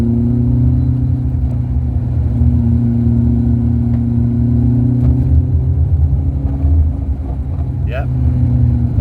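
Engine of a Fiat Cinquecento Trofeo, steady mid-pitched drone and rumble from inside the car as it drives and accelerates with a modest rise in revs, loud and continuous for the whole stretch.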